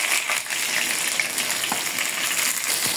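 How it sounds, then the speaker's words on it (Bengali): Onion, garlic and dried red chili fry in mustard oil, giving a loud, steady, hissing sizzle close by with a few light stirring sounds and no speech. "শুকনো মরিচ পেঁয়াজগুলো ভাজা হয়ে গেছে"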